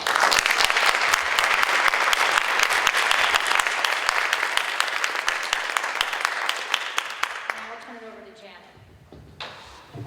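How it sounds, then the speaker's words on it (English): An audience at a school district board of education meeting gives a round of applause: steady, full clapping that gradually thins out and fades near the end, followed by a brief voice and a few small noises. "I'd like to give them a round of applause."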